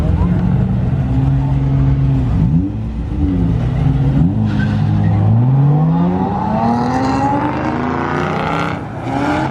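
A car sliding at a car meet, its engine revving and wailing in rising and falling sweeps as the tires skid, loud and close with crowd noise around it.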